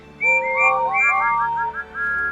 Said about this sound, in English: Whistled all the engines.